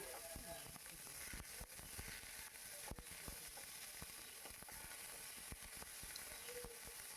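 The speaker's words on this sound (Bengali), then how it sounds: "পেঁয়াজটা একটু নাড়াচাড়া করে ভালো করে ভেজে নিতে হবে।" Onion paste frying in hot oil on a tawa alongside whole garam masala and cardamom for a Bengali doi katla, a steady close sizzle broken by sharp scrapes and clicks of stirring.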